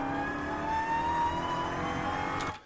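An 807 HP Dodge Challenger Hellcat Super Stock engine is recorded from under the hood, holding a steady, loud rumble with a rising whine, then cutting off sharply at the end.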